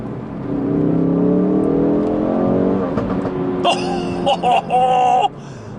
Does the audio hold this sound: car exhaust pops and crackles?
yes